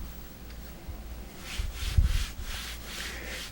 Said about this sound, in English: and then we take the old trusty damp cloth